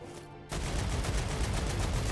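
Rapid gunfire from a weapon in the video game StarRupture, a dense, continuous burst of shots that cuts in abruptly after a short quiet moment and stays loud to the end.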